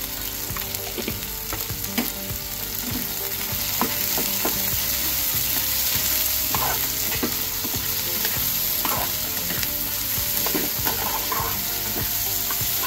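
Green chilies fry in a pan over a low flame, with a constant bright sizzle and crackle plus periodic scraping and stirring clicks from a utensil, close and steady without any talk.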